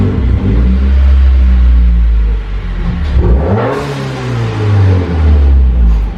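A Subaru WRX pulling into a garage, its engine revving up and easing off several times in loud, close bursts with a rumbling exhaust, and no talk over it.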